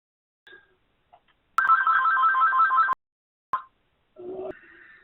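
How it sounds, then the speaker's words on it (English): A phone ringtone sounds once as a single sustained electronic trill of about a second and a half, loud and close in a quiet room, followed by a few short clicks and a brief tone. "I just need to put the phone where it's not going to ring and disturb us."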